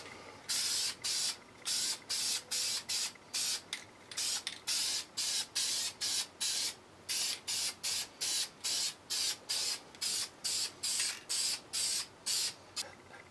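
Duplicolor caliper paint sprayed from an aerosol can onto front suspension brake calipers, in a steady run of short, loud hissing bursts with brief gaps between them and no talking.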